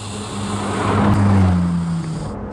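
A Ferrari 458 Speciale V8 drops to second gear with a short rising rev blip over a steady engine drone, loud and close.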